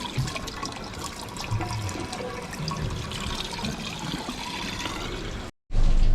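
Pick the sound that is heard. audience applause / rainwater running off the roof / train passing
rainwater running off the roof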